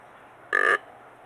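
A Mad Buck growl grunt call blown to imitate a whitetail buck gives one short, solid, buzzy grunt of about a quarter second, loud and close, with quiet before and after.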